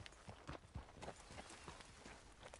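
Horse hooves clip-clopping in a video game, a steady run of soft, close hoof knocks over background game ambience, with no talk.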